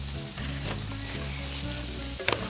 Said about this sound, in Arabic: هون لكان الدجاج عم ينطبخ